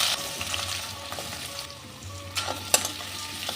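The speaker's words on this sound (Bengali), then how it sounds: "এবার তেলে দিয়ে দিচ্ছি তেজপাতা আর অল্প একটু দারচিনি" Bay leaf and cinnamon fry in hot oil, a crackling sizzle with intermittent sharp pops and spatters, fairly close and quiet.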